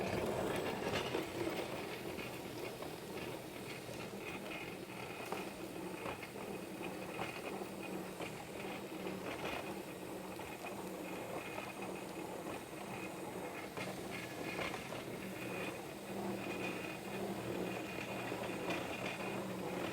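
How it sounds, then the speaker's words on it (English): An industrial vacuum runs continuously while a machine polishes a self-leveling concrete overlay, a steady broadband whir and hum that stays even and loud throughout with no voices. "Let's start the vacuum."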